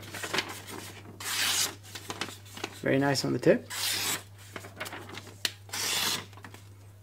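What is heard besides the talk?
VG10 steel knife cutting newspaper to test sharpness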